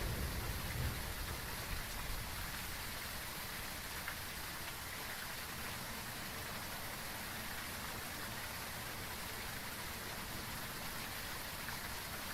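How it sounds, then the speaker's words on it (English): Steady, dense rain hiss fills the scene in the Phasmophobia video game, an even, continuous wash of falling drops at low level with no voices. "Yeah, because it's raining."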